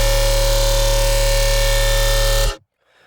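A dubstep sustain synth patch with post-processing holds one thick, buzzing, harmonically dense tone at a steady loud level for about two and a half seconds, then cuts off abruptly into near silence.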